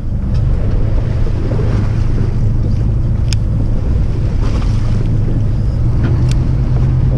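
Strong wind roars and heavy sea swell churns around a small fishing boat out on rough water for octopus and cuttlefish, a loud, steady wash of rumbling noise with occasional knocks and creaks, no voices.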